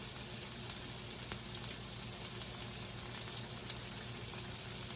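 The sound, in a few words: onions frying and caramelizing in a pan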